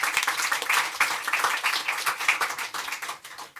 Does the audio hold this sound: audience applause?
yes